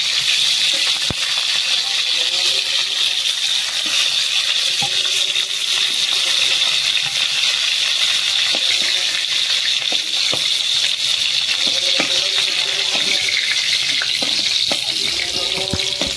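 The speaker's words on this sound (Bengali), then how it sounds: "ভাজা হয়ে গেছে, বেশি আর ভাজবো না।" Pointed gourd (potol) fries in oil in a pan for a mustard potol dish, giving a loud, steady sizzle and crackle that runs unbroken throughout, with no talking.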